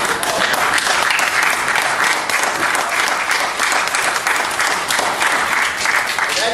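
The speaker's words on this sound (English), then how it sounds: "take a round of applause" A loud, sustained round of clapping from a crowd of volunteers and members at a country music association event, thick and continuous from start to finish.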